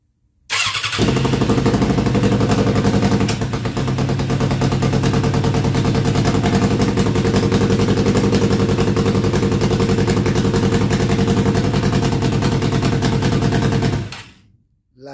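A 1998 Suzuki 750cc motorcycle engine starts and runs loud and close, a steady rattling idle that continues for several seconds before cutting off.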